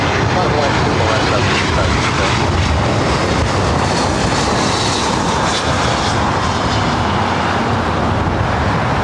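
Jet aircraft at LAX airport, a loud continuous broadband engine roar holding steady close by throughout, with talk faintly under it.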